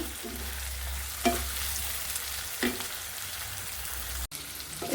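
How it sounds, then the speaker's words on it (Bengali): Small prawns (icha fish) fry in hot oil, giving a continuous dense sizzle with two or three soft spoon knocks against the pan, no voices present. "ইচা মাছটা একটু তেলের ভিতরে ভাজি"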